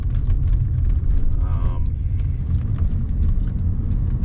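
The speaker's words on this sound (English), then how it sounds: "Tracks down the road tight. Just a beautiful driving car." A 1991 Mercedes-Benz 420SEL cruises down the road with a steady, heavy low rumble of engine and road noise, while someone talks over it from inside the car.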